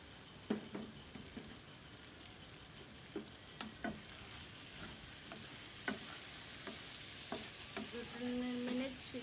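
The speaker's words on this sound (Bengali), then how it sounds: "পেঁয়াজ কুচি দিয়ে একটু নেড়ে দিলাম" Half a cup of chopped onion is stirred into a dried fish curry in a pan, a quiet low sizzle broken by soft, irregular spatula scrapes and taps.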